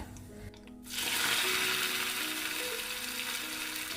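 Mustard seeds crackle and splutter loudly in hot oil for a Kerala sadya carrot pachadi, a dense continuous fizz that bursts in after a short quiet start; no talking.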